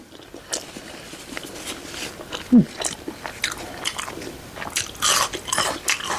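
Crunchy biting and chewing of a Thai corn salad with pork sausage, one crisp bite standing out amid soft, close mouth sounds and faint background noise.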